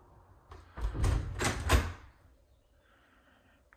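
A front door opens into the entrance hall of a house, giving a cluster of close thuds and a latch rattle over about a second, then the quiet room tone of the hall.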